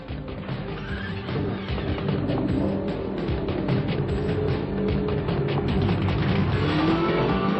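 A 636-horsepower 1995 McLaren F1 GTR race car drives out at Pembrey circuit. The engine's dense, loud, continuous roar builds as the car pulls away, close to the listener throughout.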